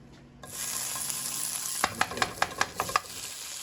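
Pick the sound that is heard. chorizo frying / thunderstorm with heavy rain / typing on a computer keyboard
chorizo frying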